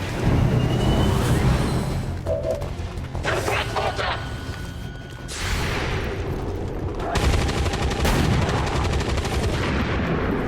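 A volley of gunfire breaks out during an ambush on an Advent drop site in XCOM 2, with dense, loud bursts of rapid shots and booming impacts overlapping continuously across the stretch, a voice faintly present beneath.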